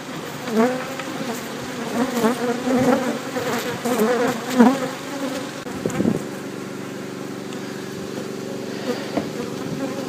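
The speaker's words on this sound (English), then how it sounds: "You can see by all the bee activity appearing on the front that there's lots of bees there." Honeybees buzzing at the front of a busy hive, a dense continuous drone of many insects with individual bees swelling close past, steady and fairly loud throughout, no talk.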